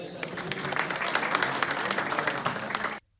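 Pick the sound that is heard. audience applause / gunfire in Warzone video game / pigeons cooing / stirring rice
audience applause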